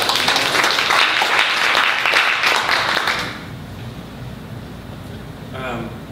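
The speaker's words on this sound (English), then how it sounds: "Thank you to Josh and the round of applause" Applause from an audience at a book launch at Malvern Books, a dense burst of clapping for about three seconds that cuts off, leaving quiet room tone.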